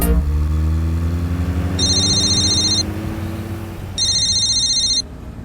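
A mobile phone rings for an incoming call in two short electronic bursts inside a moving small car, loud and close over a steady engine rumble.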